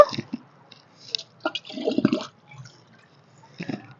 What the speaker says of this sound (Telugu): ఇక మిగతాదంతా నీళ్ళు పోసుకుందాం